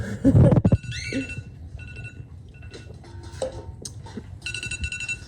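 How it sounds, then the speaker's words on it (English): Phone timer alarm set for garden sprinklers, a short run of bright repeated chiming tones after a loud thump, then sparse beeps over outdoor background noise. "That's my timer for my water."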